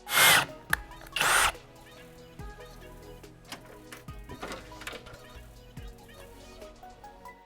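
Two loud bursts of a power drill boring through layered car trunk-lid sheet metal on a 2022-2023 Subaru WRX early on, followed by quieter clicks, clatter and faint workshop noise.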